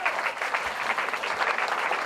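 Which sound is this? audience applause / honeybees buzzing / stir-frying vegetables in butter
audience applause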